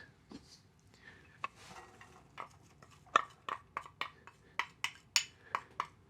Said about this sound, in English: Get the olive oil in there. All right. And then in goes the onions.